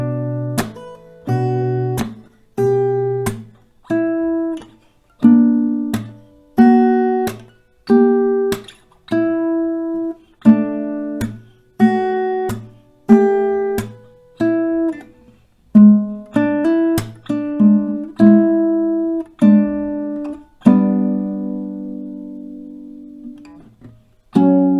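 Steady strummed acoustic guitar chords in a regular repeating rhythm, playing the post-chorus of Arizona Zervas' Wouldn't It Be Nice, each strum clear and close before ringing out on a final held chord.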